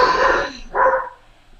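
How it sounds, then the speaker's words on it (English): A dog gives two short, loud barks close by, the second following a brief pause, then falls quiet. "My dog does the same thing. I'm surprised she's not barking back."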